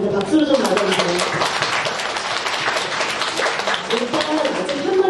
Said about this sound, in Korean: 박수로 좀 맞아주세요.